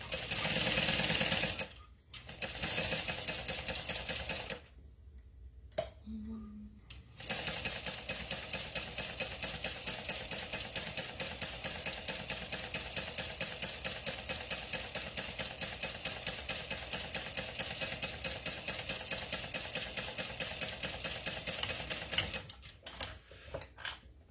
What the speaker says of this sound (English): I like to use a 4 stitch length when I'm doing vinyl stitching.